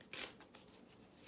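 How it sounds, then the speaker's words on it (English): A deck of reading cards is shuffled, with a quick crisp riffle followed by faint soft card handling and a brief second flutter, all quiet and close. "Let's go ahead and shuffle these cards."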